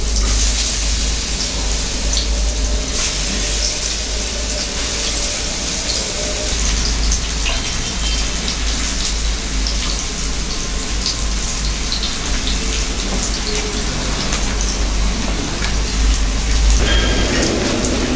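Raw banana slices deep-frying in hot oil, a steady dense sizzle and crackle that stays loud and continuous throughout, with no voices.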